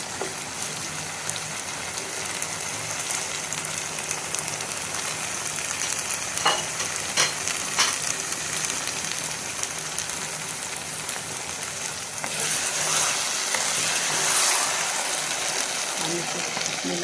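Potato, spinach and fenugreek curry fries steadily in a pan, a continuous close sizzle with a few brief stirring clicks and a brighter hiss rising near the end.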